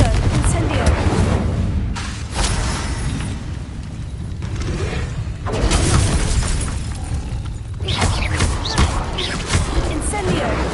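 Incendio fire spell blasts in Hogwarts Legacy combat burst out loud alongside other spell impacts, repeated booming explosions and crackling hits in quick succession, with speech mixed in over the fighting.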